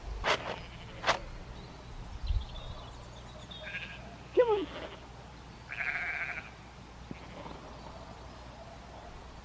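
Sheep bleat outdoors in a few short, moderately loud calls spread across the clip, with quiet gaps between them, while a man calls out to them.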